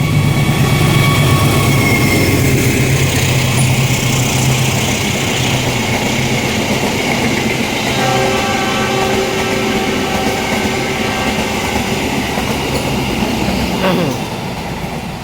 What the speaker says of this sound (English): The Argo Willis train already departure, already passed me, and already departure from Bandung Station